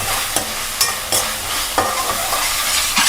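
Ginger garlic paste fries in a pan with a bright, continuous sizzle. Regular sharp scrapes of a spatula stirring come close and loud, with no voices.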